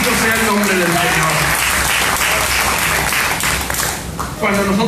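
Loud, dense applause rolls through a church congregation and holds steady, then dips briefly near the end. Voices shout and speak over the clapping.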